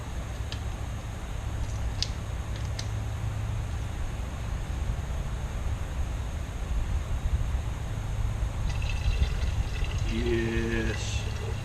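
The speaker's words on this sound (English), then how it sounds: "we're going to top off our windshield bug juice" Windshield washer fluid is poured into a car's reservoir during an oil change, making a steady, close, soft rushing pour that runs throughout. Faint voices are heard in the background.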